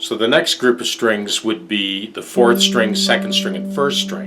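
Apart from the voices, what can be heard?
None of the usual background noises is heard.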